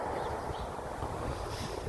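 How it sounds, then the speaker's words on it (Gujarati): Strong storm wind in Canada roars as a constant dense rush of noise buffeting the microphone, loud and unbroken with no voices. "પવને બહુ છે અને તોફાને હજી છે."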